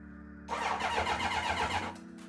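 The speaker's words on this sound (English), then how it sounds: "Let's see if the starter actually turns over." Starter motor of a 1983 Honda CB1100F motorcycle turning over with no fuel connected, a close, steady whirring crank lasting about a second and a half, then cutting off.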